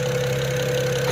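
A BMW 335i engine idles steadily with a low, even hum and a faint uneven misfire knock running through it, close and continuous.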